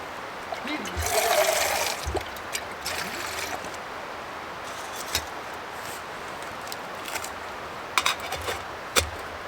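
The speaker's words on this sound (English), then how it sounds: "I guess we are right by" A creek flows beside a backpacking campsite in the Smoky Mountains in autumn, giving a continuous rushing hiss of water that is joined by a few scattered clicks and knocks from people moving around camp.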